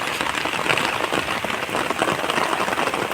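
Heavy rain pours down steadily in a rural setting where sheep are kept, a dense, even hiss of drops striking surfaces close by with no break and no voices.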